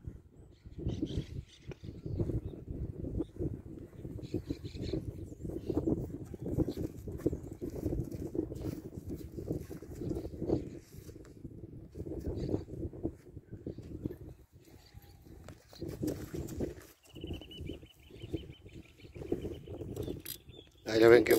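A gentle, trained pinto horse, sold as a calm working animal, walks with soft hoof clip-clops under near continuous talk, with faint bird calls in the background.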